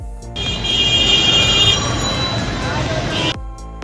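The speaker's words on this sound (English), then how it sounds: "noise from vehicles" A train passes close by with a loud, steady rumble and roar, while high metallic tones ring over it from the wheels on the rails. The sound swells in, holds for about three seconds, then cuts off sharply.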